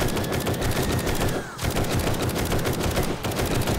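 Automatic gunfire in 7 Days To Die, a loud, rapid, sustained burst of shots with two brief pauses, dense and close, as a horde is fought off.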